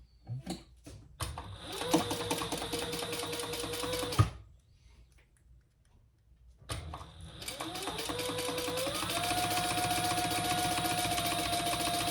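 A sewing machine top-stitches and bastes fabric in bursts of rapid mechanical whirring, with a brief pause in the middle. The sound is close and clear, with no voices.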